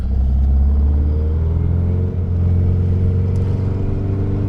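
A 1951 Volkswagen Beetle Split Window engine rumbles steadily at low pitch while driving on a road, a constant loud drone with no talk.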